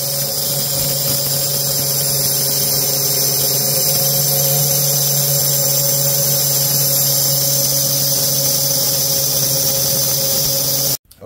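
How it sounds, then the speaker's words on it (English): An angle grinder cuts through a metal bar on a high-end Vigo shower door, giving a steady, loud, continuous whine with a constant hum beneath it. The sound runs unbroken for about eleven seconds, then cuts off abruptly. "So let's take it out here and get it grinded."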